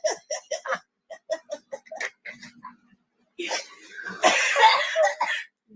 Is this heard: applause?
no